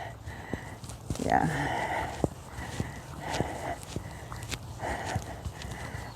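A reactive horse walks under a rider, hooves clip-clopping in a slow, even rhythm of soft thuds, with a rider's brief voice and faint breathing nearby.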